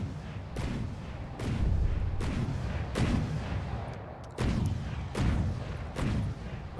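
Heavy gunfire from a warship in From the Depths, a string of loud booming shots about every second or so over a constant rumbling battle din, with no voices.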